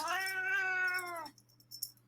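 A grumpy domestic cat lets out one long, drawn-out, whining meow lasting over a second, close and clear, followed by a few faint small sounds in near quiet.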